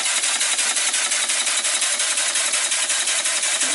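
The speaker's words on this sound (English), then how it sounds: "The last run of the beam engine on air before it goes on the shelf." Small model beam engine built from castings and run on compressed air, a rapid, even chuffing beat of quick regular exhaust pulses, close and fairly loud, steady for the whole stretch with no talk.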